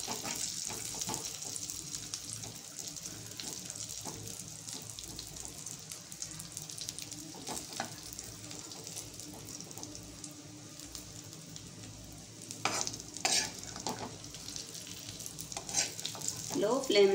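Semolina for kesari roasts in plenty of ghee in a pan, a continuous quiet crackling sizzle with occasional stirring scrapes that grow a little louder toward the end, with no voices.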